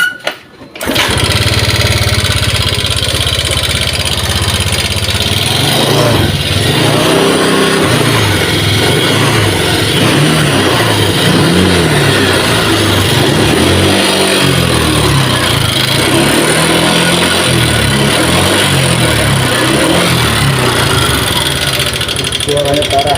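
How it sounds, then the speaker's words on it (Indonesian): A Honda Vario 125 scooter engine catches after a brief start and keeps running loud and close, its idle uneven and rough with a lumpy, wavering pulse, and speech comes through over the engine noise. "Coba kita nyalakan mesinnya ya."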